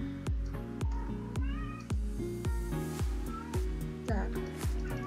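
Several cats meow insistently in a regular rhythm, roughly a dozen sharp, loud calls close by, some stretched into wavering cries, with no speech.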